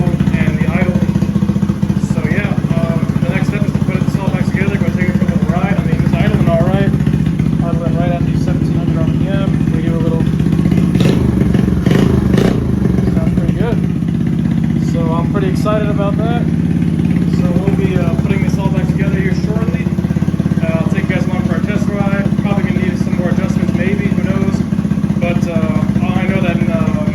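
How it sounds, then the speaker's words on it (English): A motorcycle engine with a freshly upgraded carburetor idles steadily up close, a loud, even, throbbing rumble with slight clatter, while someone talks over it. "it's actually idling really good after I just hit fuel and the idle"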